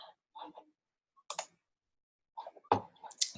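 A few sharp, quiet mouse clicks in a quiet room while a computer screen is being shared, spaced in small irregular bursts.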